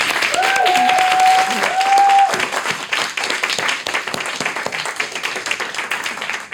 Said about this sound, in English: let's give you some applause